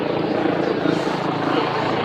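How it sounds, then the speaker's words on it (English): A helicopter flies overhead with a loud, continuous rotor drone and low thumping that fills the whole stretch, heard over city surroundings near London Bridge during a stabbing incident. "Helicopter in the air."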